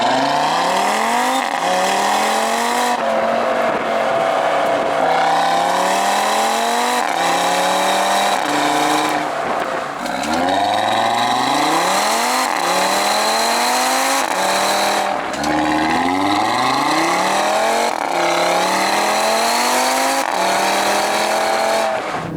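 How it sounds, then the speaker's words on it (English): A 2019 Audi RS3 on the move gives off its wailing exhaust note, climbing in repeated rising sweeps as it pulls through the gears with brief dips at each shift, loud and close with no talking. "You don't even have to rev the engine that hard to hear that characteristic, exhaust note, that wail"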